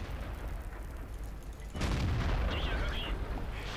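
A tank cannon firing in World of Tanks: a low rumbling engine bed, then one sudden loud boom followed by sustained reverberating noise and faint higher tones.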